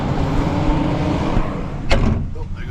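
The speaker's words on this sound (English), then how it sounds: "Goes truck number 10." A loaded work truck hauling red Georgia clay pulls away at a loading site, its engine rumbling steadily at moderate distance, with a brief sharp rattle or clank partway through.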